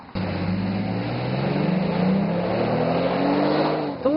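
Lincoln MKX SUV with its 3.7-liter V6 accelerating on the road, engine note rising steadily and smoothly over about four seconds, close and fairly loud, no talk.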